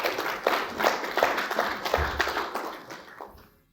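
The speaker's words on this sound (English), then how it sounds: "Give him a round of applause." Brief applause from a small audience at a shared-space tech amenities roundtable, a few seconds of scattered, moderately loud clapping that thins out and fades toward the end.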